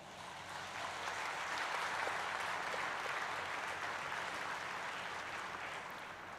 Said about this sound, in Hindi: आप सभी के लिए एक बार जोरदार तालियां हो जाएं